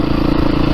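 A 2022 Beta 430 RR-S dirt bike engine putters steadily at low revs while riding, a close, continuous smooth thrum with a light mechanical clatter.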